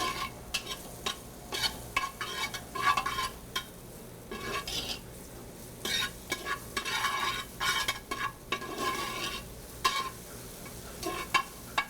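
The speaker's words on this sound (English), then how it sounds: "And you can see it's starting to sizzle." Cured smoked pork fat renders in a pot as a base for Southern collard greens, with soft sizzling and repeated scraping, stirring clinks of a utensil against the pot in irregular bursts.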